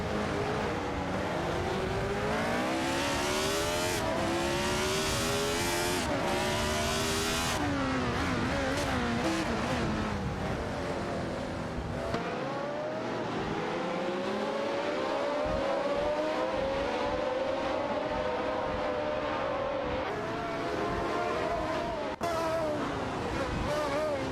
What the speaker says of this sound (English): Gary 710 and Silver Gaming are in Parnelli VPJ4 cars, while Schnickative and Deplorable Apple are driving Ferrari 312T